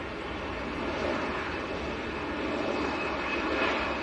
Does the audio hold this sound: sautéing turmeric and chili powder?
no